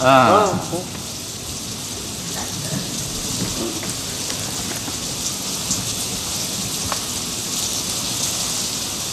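Heavy rain pours steadily in a dense, unbroken hiss, with a brief louder rumble at the very start.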